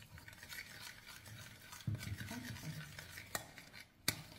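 Clafoutis batter made with courgette is stirred in a bowl, giving soft continuous scraping and swishing with a few sharper utensil clicks against the bowl, close and quiet, with no talk.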